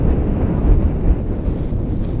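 Gusty wind buffeting a microphone on a frozen Wisconsin lake during ice fishing, a loud, close, low rumbling roar that surges and eases without pause.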